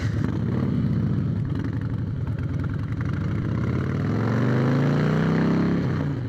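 A stock Harley-Davidson motorcycle engine idles loudly and close, a steady low rumbling throb with a slight rise in revs toward the end.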